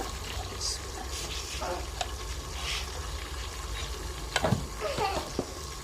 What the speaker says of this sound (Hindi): मसाला हम अच्छी तरह भूनेंगे, देखिए अच्छी तरह इसको भून लेंगे।